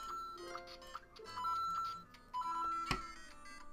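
A LEGO Super Mario figure playing its electronic coin-collecting effects: a quiet run of bright, chiming beeps and tones with a sharp click near the end, small and close.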